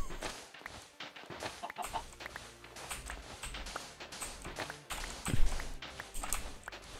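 Chickens cluck and squawk in the video game Minecraft, several short clucks popping up at close range among soft footstep taps, with no talking over them.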